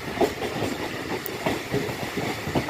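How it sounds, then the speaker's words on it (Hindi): Train pulling into Chaklala railway station on the Rawalpindi to Mandra line, a steady rolling rumble with light rhythmic wheel clatter and a faint hiss, heard from on board with no talking. "चकलाला रेलवे स्टेशन से इंटर हो रही है ट्रेन"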